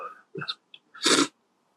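One sharp, close sneeze bursts out indoors after a few soft breathy sounds, then silence follows.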